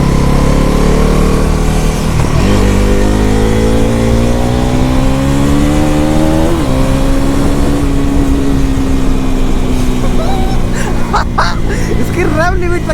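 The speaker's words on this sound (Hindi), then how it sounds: "इसकी रेव लिमिट तक नहीं मैं फुली रीच करता हूँ।" A Bajaj Pulsar NS400Z motorcycle engine revs and climbs in pitch toward its rev limit, rising in steady stages with a close, strong whine before easing off near the end.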